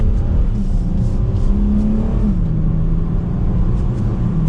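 A 2022 Dodge Challenger SXT V6, a heavy car of about 4,000 pounds, accelerates in sport mode, its engine droning loud and close from inside the cabin with a rising tone that briefly shifts as it changes gear.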